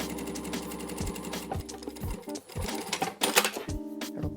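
A sewing machine runs close up in fast rhythmic bursts while stitching a seam on a thick padded quilted skirt, pausing briefly between runs.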